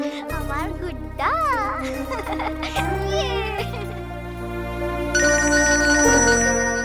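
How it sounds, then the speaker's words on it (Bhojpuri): A phone rings with an incoming call, playing a loud melodic ringtone with rising tonal phrases over a sustained backing tone that runs unbroken throughout. "आभा के फोन आवल बाटे।"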